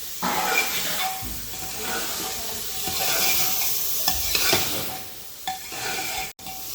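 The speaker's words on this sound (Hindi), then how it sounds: "मटर बढ़िया फ्राई हो गए भाई।" Peas fry in a hot pan with a steady close sizzle and hiss, broken now and then by scraping stirs, with no one talking.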